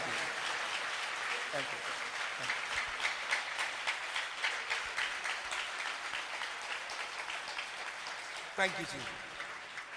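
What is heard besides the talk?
congregation clapping loudly for the Lord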